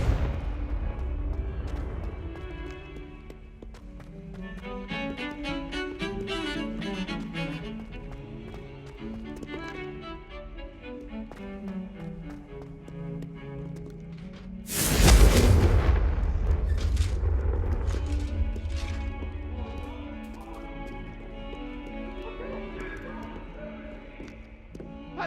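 A Confringo explosion spell in Hogwarts Legacy, one sudden loud burst midway over ongoing game music, fading into a lingering rumble.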